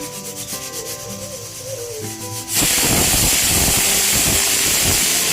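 After a quiet stretch with faint tones, a loud, forceful hiss of steam bursts out and continues steadily, close and harsh, as a pressure cooker cooking barnyard millet khichdi vents.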